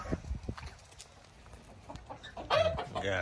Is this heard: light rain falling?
no